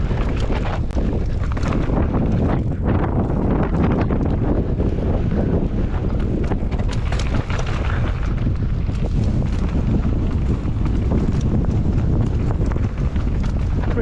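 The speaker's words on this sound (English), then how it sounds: "the wind is massive." Strong wind at Dyfi Bike Park buffets the microphone in constant loud rumbling gusts, a broad roaring wash that fills the whole stretch without letup and with no talk.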